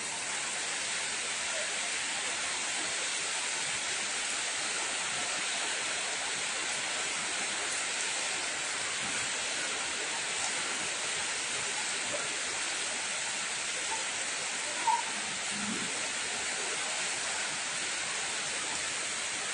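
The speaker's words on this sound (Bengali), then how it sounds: "মাশাআল্লাহ ভালোই বৃষ্টি হচ্ছে" Heavy rain, the first of the year, pours down as a steady, dense hiss that stays even and unbroken throughout.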